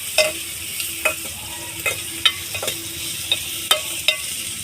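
Green chillies and onions sizzle in a hot pan while a spoon stirs them, with sharp scraping clicks at an irregular rhythm over a steady close frying hiss.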